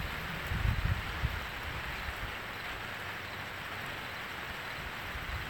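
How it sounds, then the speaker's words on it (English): Rain falls over a corn silage field during harvest, a dense, even hiss that continues unbroken, with a few low thumps near the start. "So now it's raining."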